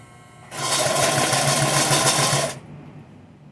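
A sewing machine stitches leather cording without a cording walking foot, running steadily at close range for about two seconds in one continuous burst before stopping, with no talking.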